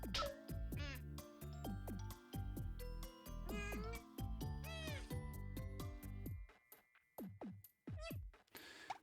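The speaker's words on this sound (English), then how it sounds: "I'm glad I turned on subtitles for the cat meows." Toro, the cartoon cat in PlayStation All-Stars Battle Royale, lets out a rapid run of loud, bright meows with rising and falling pitch, closely packed and then trailing off into a few sparser calls alongside game sounds.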